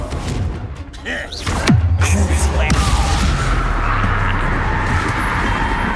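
A fiery Confringo spell blast in Hogwarts Legacy lands with a deep booming thud, followed by a low rumbling roar that lingers loudly amid battle noise.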